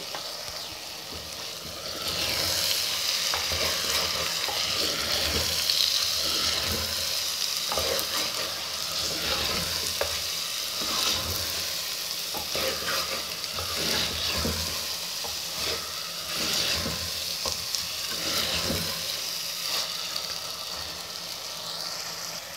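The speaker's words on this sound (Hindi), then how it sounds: "मसाले के साथ दाल को मैं अच्छी तरह भूनूंगी।" Dal with spices and chopped green chilli roasts over moderate heat in a clay handi, with a steady crackling sizzle and frequent stirring scrapes close by and no talking.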